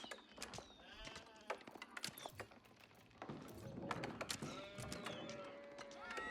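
Sheep bleat in the real-time strategy game Age of Empires IV, with repeated short cries over busy game sounds, clicks and clip-clop hooves at a moderate level.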